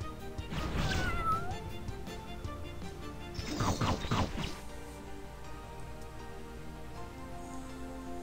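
In the Epic Battle Fantasy video game, a cat enemy lets out a couple of short meows among game hits and crash effects, followed by a quieter stretch of background music.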